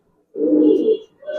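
Near and loud, a Giribaz pigeon gives one long, low throaty coo, then a pause before a second call begins.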